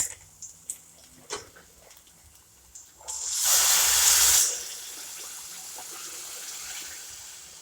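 A few light clinks, then hot water gushes into a pan for about a second and a half, followed by a soft lingering hiss.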